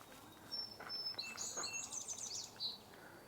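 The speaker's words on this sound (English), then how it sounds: "Another song sparrow." A song sparrow sings a single bright, rapid phrase of chips and trills in a marsh, fairly close and clear over quiet background hiss.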